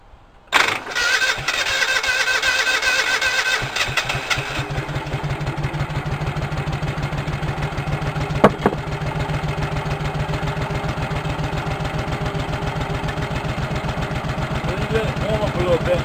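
Cub Cadet 1650 garden tractor engine cranks briefly, catches and settles into a steady, loud, close-up rhythmic idle that runs on evenly to the end.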